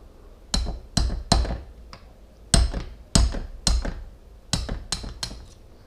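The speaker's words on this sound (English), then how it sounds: "And we'll just hammer it right out." Sharp metallic hammer strikes on a punch drive a pin out of a Beeman P17 air pistol, ringing out in irregular bursts, about a dozen blows in clusters of two or three, close and loud.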